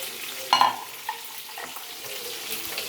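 Tomato and green chillies fry with shahjeera in a pan, a soft steady sizzle with a sharp hiss as they are stirred or added, close and fairly quiet.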